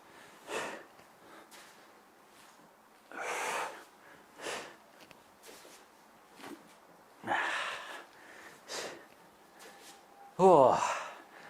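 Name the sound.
heavy breathing during weighted HIIT workout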